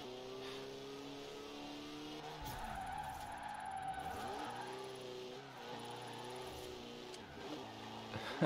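Car engine in Forza Horizon 4 revving through gear changes with tyres skidding in a wheelspin drift, a steady loud game mix with stepped rising engine tones and a sweeping screech throughout.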